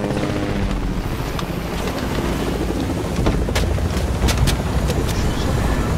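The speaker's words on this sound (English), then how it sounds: "Get in the helicopter." A helicopter's rotor and engine drone steadily and loudly for the whole stretch, close by and constant, with a few sharp transient knocks near the end.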